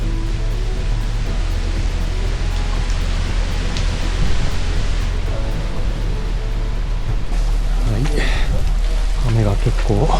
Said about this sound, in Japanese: 雨が結構本格的に降ってますが